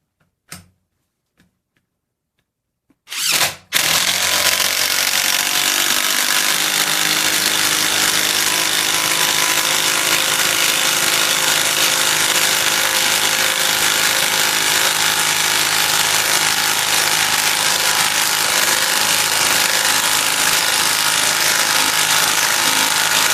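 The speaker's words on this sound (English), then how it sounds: "now we're going to move on to the DeWalt XR 20 volt brushless impact" DeWalt XR 20V brushless impact driver (DCF886) sinking a lag bolt: after a few quiet clicks, a loud, continuous hammering whine starts abruptly and runs steadily for about twenty seconds, close up with no talking.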